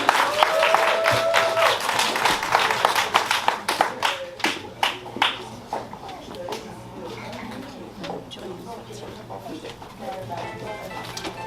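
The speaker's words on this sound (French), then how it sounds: "Est-ce que nous pouvons acclamer pour pasteur Mike Kingo?" A crowd at a graduation party in Dallas, Texas claps and cheers for Pastor Mike Kingo, a brisk burst of applause that thins out and fades to scattered claps, with voices murmuring underneath.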